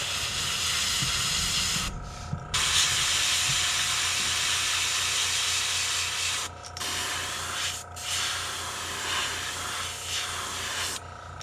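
Continuous airbrush hiss sprays primer onto a crankbait fishing lure, broken by a few short pauses where the spray cuts off before resuming.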